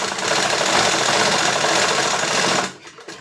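A sewing machine runs a three-thread lock stitch along a seam on trouser legs, a loud, fast, steady mechanical whirr that stops abruptly near the end, leaving quiet.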